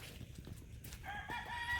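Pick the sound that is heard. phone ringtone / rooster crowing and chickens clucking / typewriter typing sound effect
rooster crowing and chickens clucking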